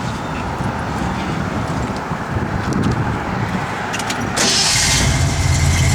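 A 1966 Ford Mustang engine cranks and settles into a steady, close, low rumbling idle, growing slightly louder and brighter over the last couple of seconds, with no talking.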